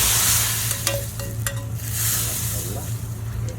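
Garlic tarka for dal hisses and sizzles in hot oil, loud and close, with a spoon stirring and scraping through it in short strokes.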